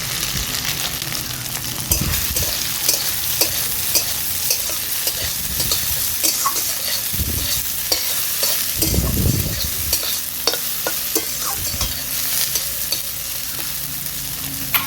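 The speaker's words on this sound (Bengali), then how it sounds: "তেল গরম হয়ে গিয়েছে, এবার এতে আমি সয়াবিনটা দিয়ে দিচ্ছি।" Soybean chunks fry in hot mustard oil in a wok, a continuous close sizzle with repeated scraping and stirring strokes of a spatula, no speech.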